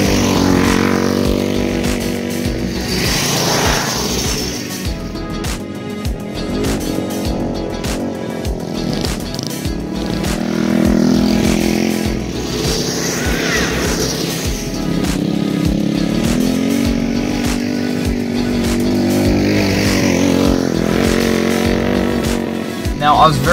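The Roadkill go-kart's small engine buzzes and revs in rising and falling waves during a ride, loud and rasping, with a person talking over it at times.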